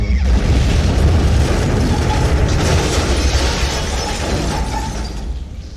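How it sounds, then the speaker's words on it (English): Building collapse one-shot effect from a horror tabletop soundset: loud, dense rumbling crash of debris and cracking structure, sustained and slowly fading over several seconds. "something like this building collapse one shot"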